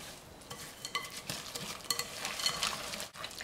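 Cookie dough with almonds and dark chocolate chips is mixed in a bowl, close, soft scraping and stirring strokes with light clicks and rustles, uneven in rhythm and fairly quiet, with no voices.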